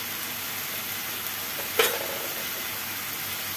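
Boneless chicken pieces fry in a pan for chicken handi, sending up a steady, moderate sizzle with one brief louder hiss partway through.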